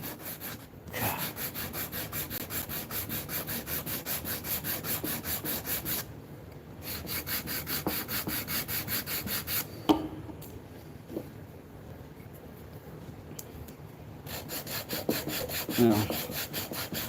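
Hand sanding of a wooden mallet made from two blended woods, a steady rhythmic rasping scrape that runs continuously near and loud, with brief pauses between strokes and no talk.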